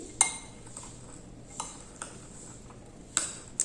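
A detox salad with plenty of coriander being mixed in a bowl: a handful of sharp, scattered utensil clinks against the bowl over a faint, quiet background, with no talking.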